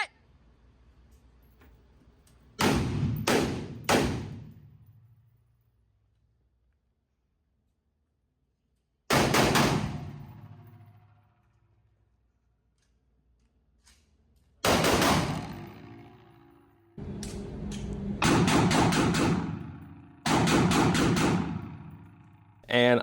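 A suppressed Sig Sauer piston rifle in 5.56, fitted with an SRD 762 suppressor, fires several bursts of rapid, loud, close cracks separated by pauses, with a shouted voice between the volleys.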